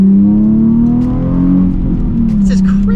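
A Nissan 350Z HR engine revving with the air conditioning running, a loud, close, deep drone that rises and eases slightly, with faint rustling toward the end.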